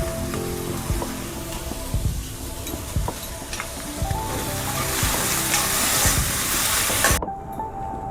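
Capsicum just added to a pan of half-fried cabbage and onion, giving a steady sizzle with stirring scrapes and knocks of a utensil throughout, close and moderately loud, cutting off abruptly near the end.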